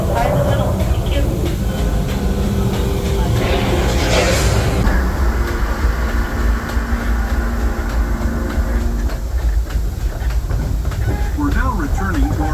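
A Disneyland Railroad passenger train rumbles and clatters steadily along its rails, a loud continuous roar with a hissing brake-like rush partway through.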